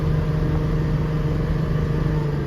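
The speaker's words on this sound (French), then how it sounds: "Désolé du bruit du moteur, mais quand t'as pas de frein, il faut jouer au frein moteur" A car descending downhill without working brakes, using engine braking, drones steadily at high revs, a constant loud hum with no pauses, held in a low gear.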